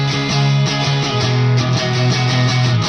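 A midwest emo, trap and J-rock style song mix, with layered distorted guitars and bass playing a loud, dense, sustained progression whose chords change in a regular rhythm.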